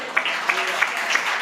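A church congregation claps together at a ministry's 57th anniversary service, moderately loud steady applause with a few sharper bursts of claps, and a voice speaks over it.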